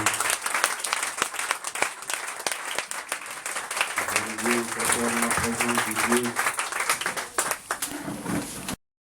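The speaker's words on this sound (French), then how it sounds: "Acclame Jésus ce matin." A church congregation claps and cheers in praise during a worship service, steady applause with scattered shouts and voices throughout, cutting off abruptly at the end.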